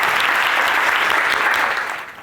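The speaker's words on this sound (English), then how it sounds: "Give a round of applause for Tim and his team" Audience applause for Tim and his team at a coding bootcamp demo day in Tokyo, loud dense clapping from a packed room that holds steady before tapering off at the end.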